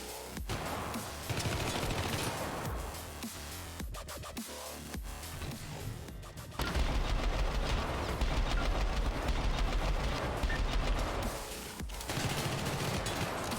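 Sustained automatic gunfire and bursts of shots from the 2012 video game Syndicate, loud and dense throughout with brief pauses, intensifying into heavier continuous firing in the second half.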